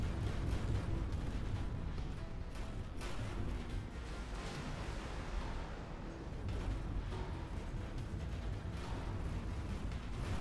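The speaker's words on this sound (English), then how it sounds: "Explosion imminent." Large ships exploding in the X4: Foundations space game: dense, continuous rumbling blasts and crackling debris roar without pause, loud and broadband throughout.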